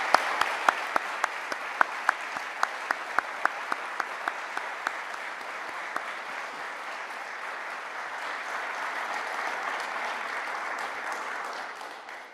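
Graduates, families and staff at a university graduation ceremony applaud in a large hall, a few sharp individual claps at first, then steady, even applause that builds and sustains before fading at the end.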